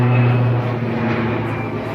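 An airplane flying overhead, a steady droning engine hum that holds loud and close for a brief moment outdoors.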